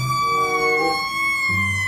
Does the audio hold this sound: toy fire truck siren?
yes